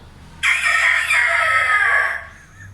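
A man mimics a rooster crowing, one loud, sustained, close-up cock-a-doodle-doo call lasting about two seconds and standing alone.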